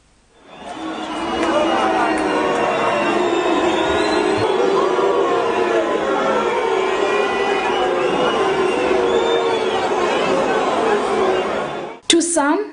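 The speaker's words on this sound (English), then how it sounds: "To some, the noise in the video above is considered as booing." A large stadium crowd at Heroes Stadium roars as the president leaves, with booing and shouting blended into one dense, sustained wall of voices that holds steady for about eleven seconds before cutting off abruptly.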